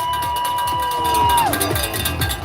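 A crowd at the finish of the 2024 RBC Brooklyn Half Marathon in Brooklyn, New York cheers and whoops for the champion, a sustained, loud roar of voices with a whistle-like tone sliding down partway through.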